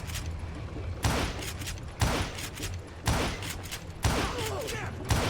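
Gunfire in the Call of Juarez Gunslinger video game: five heavy shots land about a second apart, each a loud thumping blast over a busy, noisy game backdrop.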